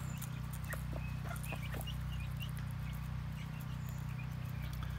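A hen clucks among a mixing chicken flock: repeated short clucks and calls rise over a steady, loud low hum, close and continuous for the whole stretch.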